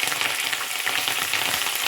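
Curry leaves, green chillies and garlic crackle and sizzle in hot oil, a steady dense frying hiss running close and loud throughout with no voices.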